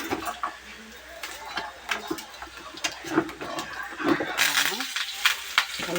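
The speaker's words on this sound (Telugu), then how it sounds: "ఎల్లిపాయలు వేసి కొన్ని జీలకర్ర వేసి తాలింపు అయితే పెట్టేస్తాను" Garlic and cumin tempering sizzling in hot oil for tomato rasam, with crackling pops and clinks of a spoon on the pan while someone talks.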